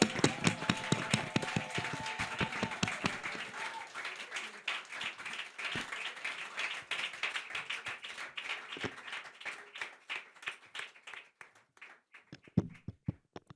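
A youth conference crowd claps and applauds, dense hand claps building into sustained applause with some rhythmic clapping, fading toward the end, with faint voices underneath.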